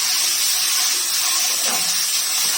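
Ginger and garlic hit hot oil for a fish curry, setting off a steady, bright sizzle that hisses continuously at close range without any talking.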